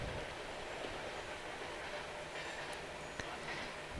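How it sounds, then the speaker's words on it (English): A train rolls past a small-town baseball field during an evening game, a faint, distant steady rumble and wheel noise with a couple of small clicks, no clear horn. "As you can see on our broadcast, we've got the train coming by."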